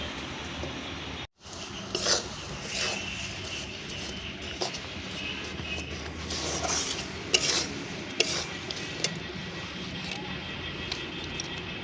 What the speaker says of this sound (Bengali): এবার এটাকে নাড়াচাড়া করতে হবে, খুব ভালোভাবে গুড়টা গলবে।